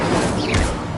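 Incendio fire spell cast in Hogwarts Legacy, heard as one dense, loud burst of crackling flame over a rumbling game soundscape, lasting about a second.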